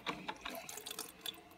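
A filter coffee machine dripping water during a cleaning cycle, a run of soft, quick drips and trickles spaced irregularly, faint and close with no talk.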